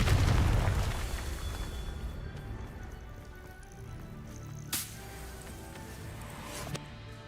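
Blast from the Confringo fire spell in Hogwarts Legacy, a loud booming burst at the start that rumbles and fades into a low sustained roar, followed by a couple of faint sharp pops.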